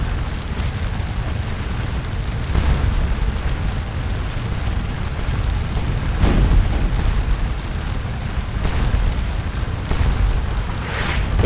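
Cannon fire rumbles in the Napoleonic battle game Scourge of War: Waterloo, a continuous loud, low roar punctuated by several heavy booms spread across the stretch, with no clear talk.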